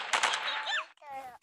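Gunfire in the FPS video game Point Blank, two or three quick sharp shots at the start, then fading game effects and a short voice-like sound, quiet and brief.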